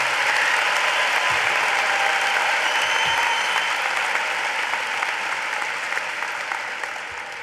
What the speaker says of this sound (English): how about one more round of applause for our talented performers and speakers?